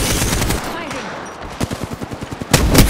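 Rapid burst of video game gunfire, a quick rhythmic run of about ten shots followed by a louder blast, with a busy game soundscape underneath.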